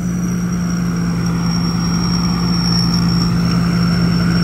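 A Hino G84 diesel truck engine idles close by with a steady, even, low-pitched rumble and a thin high whine. The level holds constant the whole time, and nobody speaks.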